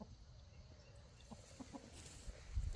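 Two backyard hens clucking on a farm, a few soft, low, brief clucks heard faintly against quiet morning ambience, with rustling and a louder thump near the end.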